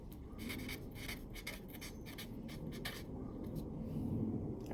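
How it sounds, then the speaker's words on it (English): Pencil strokes scratch across paper in short bursts as a sentence is written out by hand. The sound is close and faint, with no speech. "and I'll go ahead and write the whole thing."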